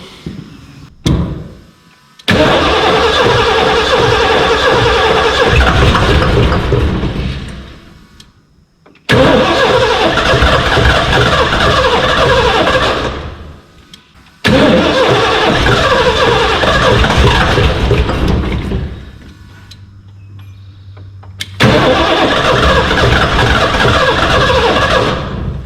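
Ford car engine cranking and starting several times in a row, each attempt a loud sustained rough burst of engine noise separated by short pauses, with a low steady hum in one gap.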